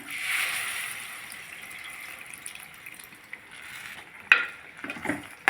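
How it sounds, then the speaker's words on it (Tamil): Tamarind water poured into a simmering okra kara kuzhambu, a steady liquid pour for several seconds followed by a few sharp clinks and splashes near the end, with no talk. "இப்போது புளி கரைச்சி ஊற்றிக்கலாம்"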